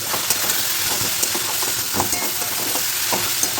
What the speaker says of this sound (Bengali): একটু ভাজা ভাজা করতে হবে